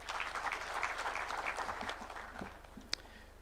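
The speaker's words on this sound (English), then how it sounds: "Please, let's clap for that." Audience applause at a Katiba Day constitutional symposium in Kenya, a steady spread of clapping from many hands at moderate distance that tapers off toward the end, with no talking over it.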